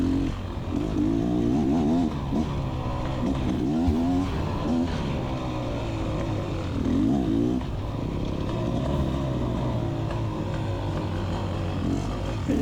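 Beta Xtrainer 300 dirt bike racing through a trail section in a hare scramble, the two-stroke engine revving hard and rising and falling in pitch with repeated throttle bursts, loud and close throughout.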